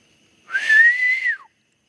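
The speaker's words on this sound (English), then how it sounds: "There was a whistle." One short rising-and-level whistle from a person, about a second long, clear and close against silence.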